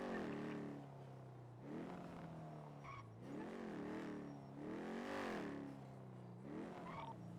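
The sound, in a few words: V12 engine car driving and revving in GTA NoPixel video game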